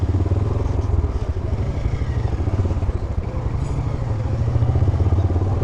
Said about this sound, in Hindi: अब हम नीचे जा रहे हैं, पहले यहाँ बाइक्स पार्क करेंगे कहीं पे।